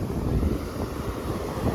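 Rough stormy sea whipped by strong wind, a steady loud roar of surf and gusts buffeting the microphone with no voices.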